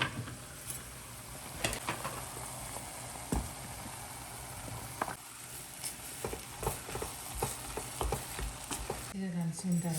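A blended vegetable paste with rock salt sizzles softly in a pan, with a quiet continuous fry and repeated light scrapes and knocks of a spoon stirring it, no talk.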